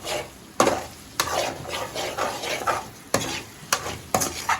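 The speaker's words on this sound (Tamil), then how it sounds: "முட்டை ஆட் பண்ணி இந்த ஆயிலே நல்லா வதக்கி கொடுத்துருவோம்" Boiled eggs stir and sauté in hot oil with masala over a low flame, a spoon scraping the pan in sharp repeated strokes over a continuous light sizzle, with no talk.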